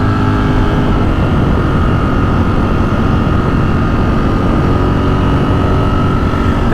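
A 2023 Ducati Streetfighter V4S motorcycle engine pulls hard in fifth gear, a loud, steady, dense roar mixed with wind rush that holds continuously at close range with no talking.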